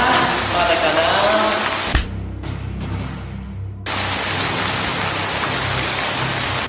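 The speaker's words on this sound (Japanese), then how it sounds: "あ、雨が降る。" Loud, steady hiss of rain falling heavily, close and broadband, briefly cut off for about two seconds before resuming just as strong.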